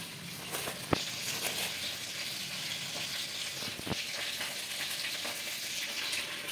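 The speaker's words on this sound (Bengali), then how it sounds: "মাছগুলো খুব ভালো লাল করে ভাজা হয়ে গেছে" Small fish (chara pona) frying in hot oil, a steady dense sizzle throughout with a few sharp clicks and pops of utensils, close and continuous with no talk.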